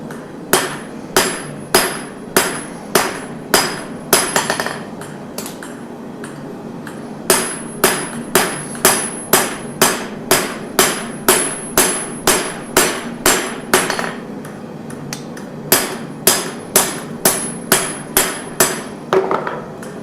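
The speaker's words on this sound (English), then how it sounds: "That was my secret hammering technique" Rapid, ringing hammer blows on metal at a forge, dozens of sharp strikes in a fast steady rhythm with brief pauses between runs, loud and close.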